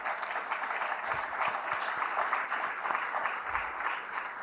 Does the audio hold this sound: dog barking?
no